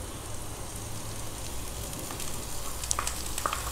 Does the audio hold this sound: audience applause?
no